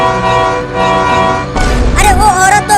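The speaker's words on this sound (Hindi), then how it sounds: "जल्दी टेम्पो का हॉर्न बजाओ।" A loud, sustained tempo (auto-rickshaw) horn blares close by, then continues as a harsher, wavering honk layered with other noise.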